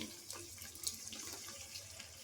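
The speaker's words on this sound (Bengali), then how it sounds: "আমি মিক্সারে বাটি ধোয়া জলটা একটু দিয়ে দিচ্ছি" Water used to rinse a mixer jar poured into a pan of simmering spice paste, a short trickling, splashing pour close by, running steadily for a couple of seconds.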